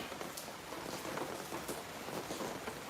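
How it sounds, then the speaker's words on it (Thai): Steady rain falls in a continuous dense hiss with scattered drops, heard alone with no talk. "ฝนตกหัวเปียกหัวปอนเหรอทุกคน"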